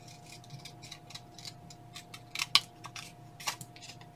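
Scissors trim a scrappy windmill quilt block with a series of quiet, crisp snips and clicks, a couple of sharper cuts standing out against a faint steady hum.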